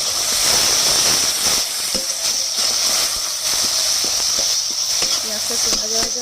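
Chopped onions sizzling in hot oil left over from frying fish, with cumin tempering: a loud, continuous hiss and spatter, with scraping and stirring clinks now and then.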